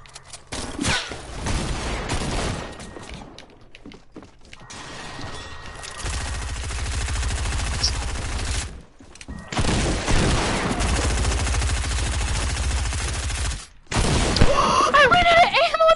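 Light machine gun fire in a first-person shooter, long sustained bursts of rapid, heavy automatic shots broken by short pauses, with players talking over the gunfire.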